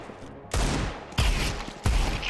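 Gunfire from the Counter-Strike video game comes as three loud, close bursts of rapid shots, each cutting in sharply after a short lull, with no talk.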